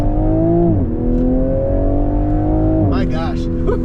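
A 2024 Toyota Supra accelerates hard from a standstill toward highway speed, its engine note climbing loud and close through shifts with brief dips between gears. A voice exclaims near the end.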